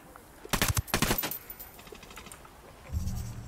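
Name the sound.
gunshots in Tom Clancy's Ghost Recon Wildlands video game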